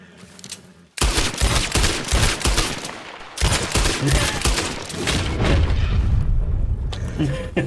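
Gunfire in the game Red Dead Redemption 2, loud rapid bursts of shots in two dense volleys with booming echoes, close and continuous after a brief quiet start.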